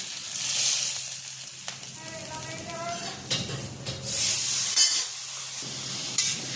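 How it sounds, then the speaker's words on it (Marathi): Hot tempering of peanuts, green chilli, curry leaves and salt poured over dadpe pohe, giving a sudden bursting sizzle followed by crackling hiss and a few clinks of a pan and spoon. "ही आपली फोडणी झालेली टाकायची त्याच्यावर।"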